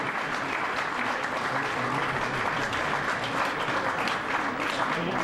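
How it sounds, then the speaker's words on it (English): Steady crowd applause at a 2011 York versus Hull KR rugby league cup match, dense continuous clapping from a stadium audience, even and sustained throughout. "Warm round of applause."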